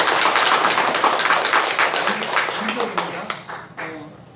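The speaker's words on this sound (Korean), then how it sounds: "우선 박수로 환영합니다" A church congregation at a Sunday worship service claps to welcome a new member, a dense, fairly loud round of applause that gradually thins out and fades near the end.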